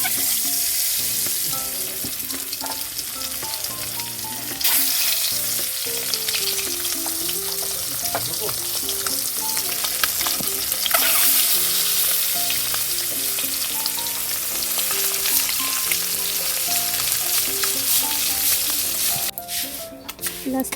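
Three eggs fry in a pan with a steady, continuous sizzle and occasional scraping and stirring noises, running unbroken for about twenty seconds with no one talking.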